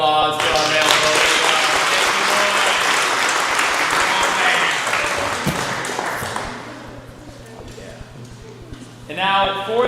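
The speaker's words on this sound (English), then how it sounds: "one last round of applause for our male podium" Crowd applause for the male podium at a youth ninja competition, strong clapping that fades out partway through, with an announcer's amplified voice talking over it at the start and returning at the end.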